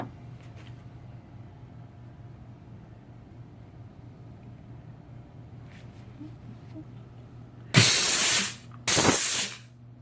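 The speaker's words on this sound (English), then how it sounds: "Little steam action." Two loud, sharp bursts of hissing steam from a steam cleaner on jewelry break a quiet background hum, each lasting about a second.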